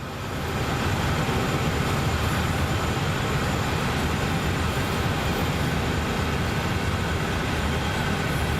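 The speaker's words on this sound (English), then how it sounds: "I can actually hear two engines running" Two locomotive engines idle and labour together in the Train Sim World 5 rail simulator as an underpowered train climbs a grade, a steady close rumbling drone that holds unbroken throughout with no talk.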